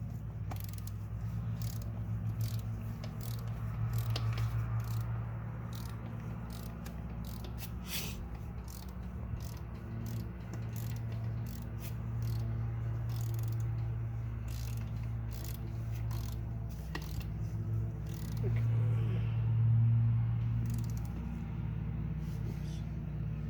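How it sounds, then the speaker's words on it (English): Torque wrench working on the oil filter housing bolts of a 2018 Audi S5 B9 3.0 turbo, with repeated ratcheting clicks over a steady low hum through the whole stretch, fairly faint and close. "So we got our torque wrench spec to 5."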